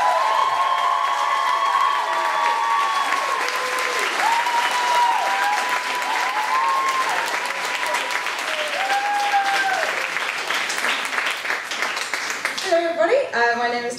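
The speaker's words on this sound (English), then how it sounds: "let's start the applause again" An audience claps and cheers loudly to welcome a comedian to the stage, the applause steady and dense throughout, with voices and whoops rising near the end.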